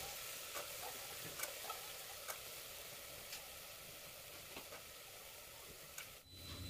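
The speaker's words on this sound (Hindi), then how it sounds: "मसाले को अच्छा सा मैंने भून लूँगी, और उसके बाद ऐड कर देंगे जो आलू मटर मैंने काट के रखे हैं" Potatoes and peas hitting hot masala in a pan, a steady soft sizzle and frying hiss with a few light clinks of stirring, quiet and continuous.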